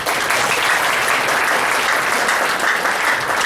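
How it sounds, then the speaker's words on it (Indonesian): Steady applause from a crowd, continuous clapping at moderate volume with no pauses. "beri kasih tepuk tangan."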